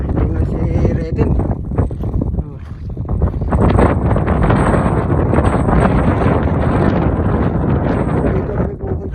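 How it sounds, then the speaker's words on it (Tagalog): Strong wind roars and buffets the microphone at the Red Rock Basin overlook near Las Vegas, a loud, continuous rumble that gusts and rises, with no clear voices over it. "At medyo malakas ang hangin."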